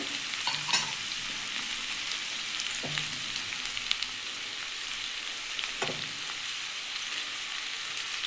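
Ground turmeric, chilli and cumin frying with softened tomato in a pan, a steady hiss of sizzling broken by a few scraping stirs of a spoon, with no talk.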